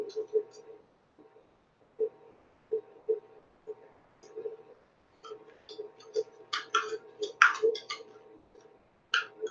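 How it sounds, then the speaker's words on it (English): A clock ticks in a room with faint, evenly spaced ticks running throughout, accompanied by some light rustling and a voice in the background. "Maybe the clock in back of me is ticking."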